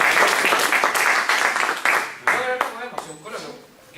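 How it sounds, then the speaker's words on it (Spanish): An audience claps for a professor at the end of a university lecture on intercultural studies, a burst of applause that fades out, with voices talking over it as it dies down. "me gustaría que termináramos con un aplauso, por favor, para el profesor."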